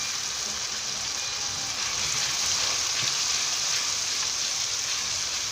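Ginger garlic paste spitting in a hot pan for a dhaba-style aloo gobi, a steady close, dense sizzle and crackle that holds level throughout with no talking.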